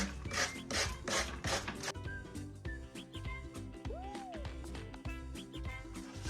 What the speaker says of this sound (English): let's sand it off on the sides and then I'll be able to work with it a little bit more.